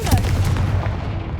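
A Confringo blasting spell explodes in the video game Hogwarts Legacy: a loud, booming burst with a heavy low rumble that decays over about a second, with no talk over it.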